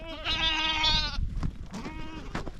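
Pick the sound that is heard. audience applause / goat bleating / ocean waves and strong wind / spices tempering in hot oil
goat bleating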